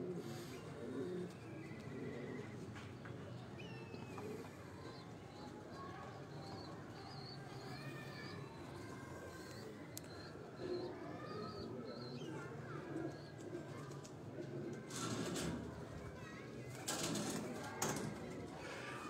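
Caged pigeons coo softly in a rooftop loft setting, scattered low calls and occasional chirps over a faint, steady background, with someone talking intermittently.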